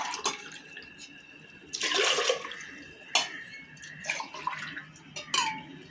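Water poured from a glass into a cooking pot for moong daal, three quick splashing pours spaced a second or so apart, each a short rushing burst, with light clinks of the pot between them and no talking.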